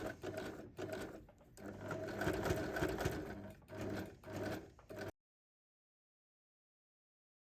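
Sewing machine top stitching fabric for a small handbag: a close, steady mechanical whir with brief pauses and restarts for about five seconds, then stopping into silence.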